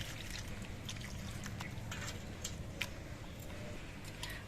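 A little water trickles and splashes over potatoes being washed, a continuous soft pour with faint ticks and drips, close and fairly quiet, without speech.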